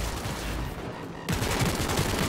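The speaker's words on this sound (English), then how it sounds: "Heard shots." Gunfire in the video game Cyberpunk 2077, a dense rattle of rapid shots over a steady noisy background, louder and punchier in the second half, with no speech.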